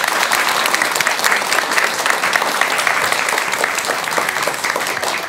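Sustained audience applause for a Buddhist monk at a televised talk-show lecture, a dense steady clapping from a studio crowd lasting the whole stretch without pause.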